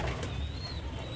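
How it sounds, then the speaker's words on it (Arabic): French meat pigeons coo inside a pigeon loft, a low soft murmuring coo over a muffled hum, lasting only about a second. "اهو زي ما انت شايف ده حمام رائد على بيضة اهو"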